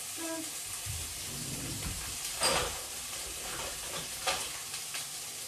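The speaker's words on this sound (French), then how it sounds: "on va pouvoir mettre les crevettes dans l'huile" Steady crackling sizzle of shrimp frying in hot wok oil, with a few louder pops and some stirring, no voices.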